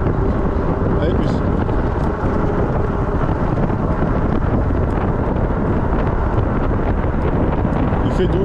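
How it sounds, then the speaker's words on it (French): Wind buffets the microphone on a woodland cycling ride, a constant loud roaring rush with a voice faintly underneath. "Il fait doux, il fait du vent, mais il fait doux."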